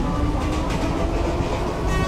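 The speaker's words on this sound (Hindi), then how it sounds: "अच्छा आउटर में लोकल ट्रेन थोड़ी स्लो हो गई" Local train in the Train Simulator PC game slowing on the outer approach near Mumbai, a steady loud rumble of rail wheels and carriage noise with no voices over it.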